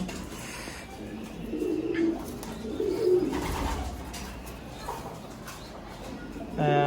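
A strong adult pigeon coos nearby in a loft, with a couple of soft, throaty rolling coos rising over a steady background hum.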